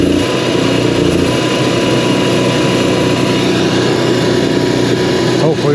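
An Onan 4000 generator engine runs steadily just after its fuel pump was replaced, a loud continuous mechanical drone that holds even throughout.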